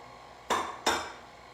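Two quick clinks of a utensil against a bowl ring out while mango cake batter is mixed, faint and close, followed by quiet.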